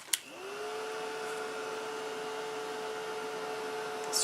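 A craft heat tool blows over paper sprayed with ink. After a click it switches on into a steady, close whooshing drone with a high whine that holds for several seconds.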